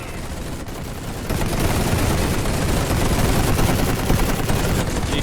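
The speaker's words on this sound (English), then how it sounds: "That machine gun fire plus the artillery should destroy these guys pretty darn soon." Dense, continuous machine gun fire mixed with artillery blasts from a World War I strategy battle game set at Iasi, a loud unbroken roar of gunfire that swells after the first second.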